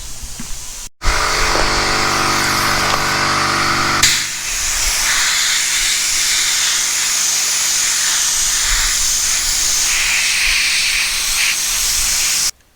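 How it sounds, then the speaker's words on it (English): A small Harbor Freight sandblaster blasts trailer hubs with a loud, steady hissing rush that starts abruptly, shifts in tone partway through and runs unbroken until it cuts off. "I picked up this little Harbor Freight sandblaster. I'm going to try to blast the hubs with it"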